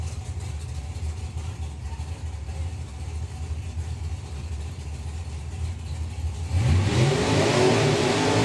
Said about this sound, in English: Strong burnout, as we'd expect there for Billy Gain.